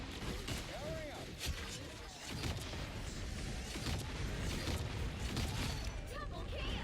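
Fireworks-like explosions in a video game make a dense, continuous barrage of booms and crackling bursts, with a voice talking over the noise.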